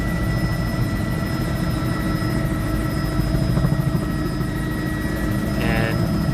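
Helicopter on a short sightseeing flight near the Hoover Dam Lodge by Lake Mead, a loud constant rotor chop and engine whine heard from inside the cabin, no talking.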